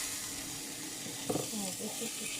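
Butter sizzles in a hot pan as a steady, bright hiss that fills the background, with a few soft clatters near the middle and faint voices beneath.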